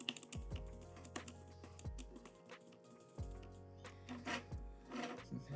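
Computer keyboard keys clicked during a game session, quiet irregular taps and clacks with occasional bursts of faster typing, close and alone.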